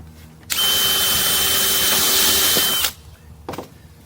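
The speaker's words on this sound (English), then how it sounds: "Then we'll drive the stainless steel screw in." A power drill drives a stainless steel screw into decking in one continuous burst of about two seconds, loud and close, followed by silence and a brief small knock.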